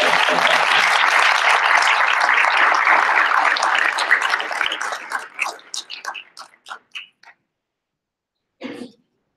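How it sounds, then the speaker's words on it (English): An audience at an association's 2018 annual business meeting applauds its election candidates: full, dense clapping holds for about four seconds, then thins to scattered single claps and stops, followed by a brief stray sound. "let's give all of our candidates a great big round of applause"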